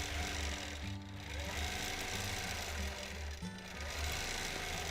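A sewing machine hums loudly and continuously during custom free motion quilting of a lap quilt, its rapid needle chatter shifting pitch slightly as the speed varies, close up with no talk.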